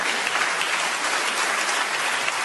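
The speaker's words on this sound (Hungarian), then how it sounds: "Ide tapsot is tehetünk, szerintem." Applause is dropped into a Hungarian comedian's stand-up show, a dense, even wash of many hands clapping at once, loud and sustained for a couple of seconds with no talking over it.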